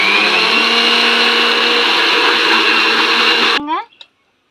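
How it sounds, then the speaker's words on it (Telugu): A mixer grinder whirs loudly and continuously as it blends small banana stem pieces into a smooth juice, then the motor cuts off abruptly and winds down briefly before silence. "మెత్తగా జ్యూస్ లాగా మిక్సీ పట్టుకోవాలండి"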